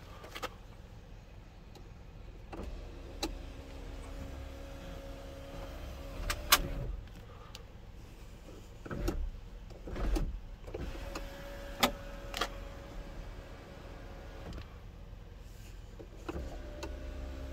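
Electric one-touch sunroof on a 2008 Hyundai Sonata NF Transform, a steady motor whir running for a few seconds at a time in several separate cycles, each ending with a soft click or thump, heard close inside the cabin without talk.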